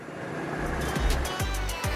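Go-kart engines run at a seaside kart track at a broad beach in Boryeong, with low motor drone and repeated revving passes sweeping by at moderate distance, mixed with wind.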